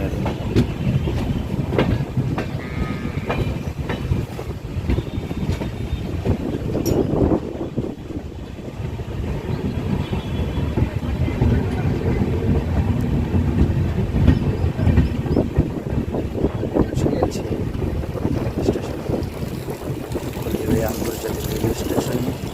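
The Darjeeling Mail passenger train rolls into Haldibari station with a steady rumble and rhythmic clickety-clack of wheels over rail joints, close and continuous, with a voice occasionally heard over it.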